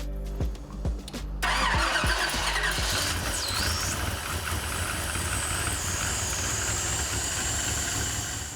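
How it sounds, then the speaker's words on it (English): A third-generation Chevrolet Camaro police-chase car with a small vacuum leak cranks briefly, then fires up and settles into a loud, steady idle close to the microphone. "When the engine fired,"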